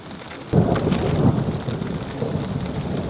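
A thunderstorm at a solo overnight camp in misty conditions: steady rain patters, then a loud thunderclap rumbles in suddenly and rolls on over the rain.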